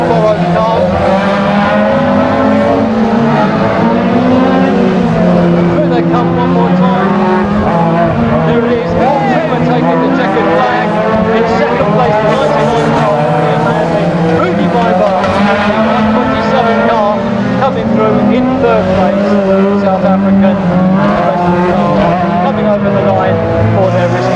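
Stock cars race around Aldershot Raceway, engines roaring continuously with tire noise while a commentator talks over the loud, sustained racket of the pack.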